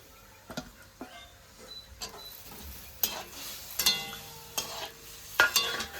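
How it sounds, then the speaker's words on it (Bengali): Singi fish going into a thin bottle gourd curry in a pan, with scattered stirring clatter and brief bursts of sizzle at moderate level, no talk. "পাতলা ঝোল করবো তো মাছটাও দিয়ে দিই"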